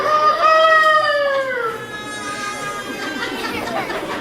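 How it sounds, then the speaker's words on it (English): A rooster crows once near the start, a strained harmonic call sliding downward over about a second and a half, followed by faint background chatter and ambient noise on a school-day morning in the Marshall Islands. "And the rooster crows."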